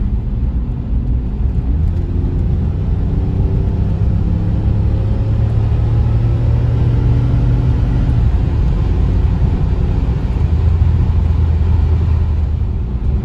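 A 1990 BMW E32 750iL with a V12 engine pulls hard along a straight road at about 7,000 feet elevation, its steady low engine drone rising gently in pitch and holding loud and close throughout.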